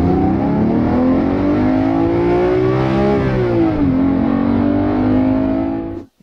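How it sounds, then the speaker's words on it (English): A naturally aspirated car engine revs up, dips and climbs again in one continuous, loud and close pull, its pitch rising and falling through the rev range. "There's a naturally aspirated engine."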